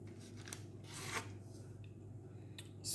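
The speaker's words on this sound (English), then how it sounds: "You can see how I'm cutting the shortbread." A knife slicing through homemade shortbread cookie dough, giving soft scraping cuts with a few brief sharper strokes over a steady low hum, fairly quiet and close.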